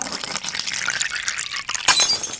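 A glass cup shatters in an Indonesian radio drama: a splashing, pouring wash of sound gives way to a sudden bright crash near the end, close and fairly loud, with no voices over it.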